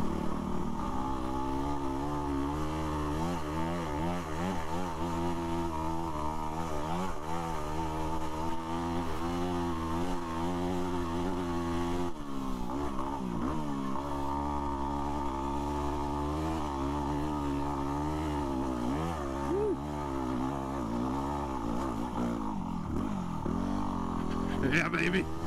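A Can-Am off-road vehicle's engine roars steadily as it climbs a steep, loose sand hill, loud and continuous with pitch swings as the revs rise and fall, while people talk over it.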